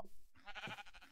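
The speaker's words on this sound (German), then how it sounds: "Schaf." A Minecraft sheep gives a short, nasal bleat, close and fairly loud, with a brief game noise just before it.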